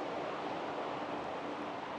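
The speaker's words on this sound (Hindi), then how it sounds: "ये पानी आ रहा है ऊपर की तरफ से" Spring water streams steadily down a mountainside near Tehran, a constant broadband rushing that holds even and unbroken from start to finish, with no voices.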